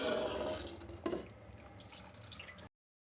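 Running water splashes and drips in a sink as raw chicken is washed, with a brief louder slosh midway, steady and close, no talking.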